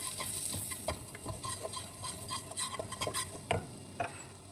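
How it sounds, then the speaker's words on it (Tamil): Soft scraping and light sizzling from a pan as flour is stirred and fried in butter, with scattered small clicks of a utensil; quiet, no voices. "இந்த பட்டர்லேயே நம்ம எடுத்து வச்சுருக்க மைதாவை போட்டு அப்படி ஃப்ரை பண்ணிக்கலாம்."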